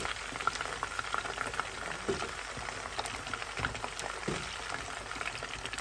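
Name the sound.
potatoes sautéing in cooking oil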